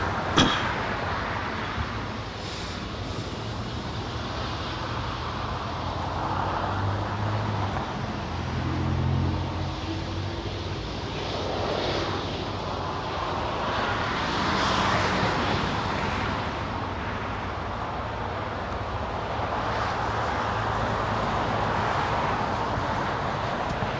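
A Hawaiian airliner rolls off the runway at Los Angeles International Airport, heard as a steady, distant jet rumble blended with broad airport and road noise throughout, with no voices.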